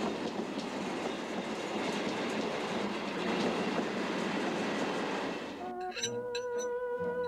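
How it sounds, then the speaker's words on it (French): Trains passing near a station, a dense rushing roar of rail cars close by, then clickety-clack wheel beats and a high squealing tone as the rolling noise thins out. "j'aime bien les trains qui se côtoient aux approches des gares."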